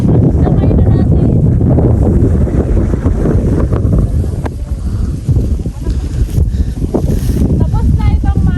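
Wind blowing across an open farm field planted with corn, loud and steady with heavy microphone buffeting that dips briefly midway, then surges again.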